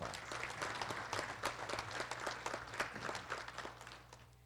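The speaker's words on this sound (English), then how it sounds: "a round of applause" Audience clapping at a college address, a dense run of sharp individual claps at moderate distance that thins out and fades toward the end.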